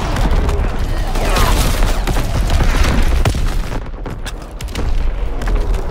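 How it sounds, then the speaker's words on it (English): Loud gunfire and booming explosions from incoming enemy artillery in the Call of Duty WW2 video game, a dense continuous barrage of blasts and shots filling the whole stretch with a brief dip near the end. "Incoming enemy artillery! Get to"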